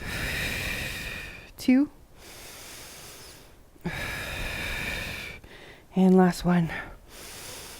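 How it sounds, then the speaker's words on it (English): Heavy, deep breaths after an intense posterior chain workout, slow airy inhales and exhales repeating in long swells, close to the mic, with a couple of brief spoken words between them. "Let's go 3 more deep breaths."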